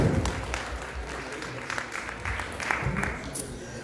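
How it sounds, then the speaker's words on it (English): An audience at a 2019 Diwali celebration in Belfast breaks into a round of applause for the organizers, with dense, steady clapping that lasts several seconds. "a big round of applause, I think, is deserved by the organizers."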